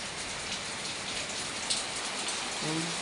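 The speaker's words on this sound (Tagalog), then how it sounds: "Medyo mina na yung ulan." Steady rain pours down in a dense, even hiss that stays constant throughout, with a faint low tone near the end.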